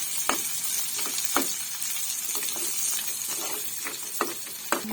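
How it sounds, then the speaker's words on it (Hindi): Chopped green chillies frying in a pan for a breakfast dish, a soft continuous sizzle with occasional sharp spoon clicks and scrapes at irregular intervals, close and quiet, no talking. "अब हम इसमें डालेंगे हरी मिर्चें।"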